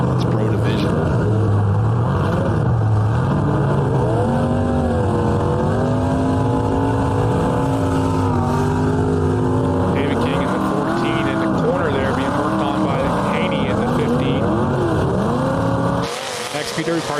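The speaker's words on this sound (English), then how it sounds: "You can hear the power of these cars." Pro Division demolition derby cars roar continuously at Derby Park, engines revving and rising in pitch, loud and close from onboard, with a commentator talking over the noise and a sharp cutoff near the end.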